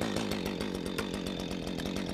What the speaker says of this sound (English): Chainsaws have 2 speeds, idle and full bore.